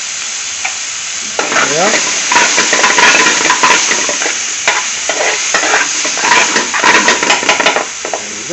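Chickpeas scraped and stirred through a simmering masala in a restaurant kitchen pan, a busy run of metal spoon scrapes over a steady bubbling sizzle, close and continuous, with a single brief word spoken.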